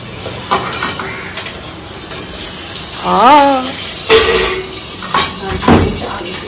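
Pieces of fish fry in hot oil in a home kitchen, with a steady sizzle, sharp spattering pops and the clink of utensils, while voices are heard intermittently.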